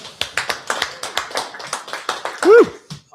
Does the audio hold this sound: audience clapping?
yes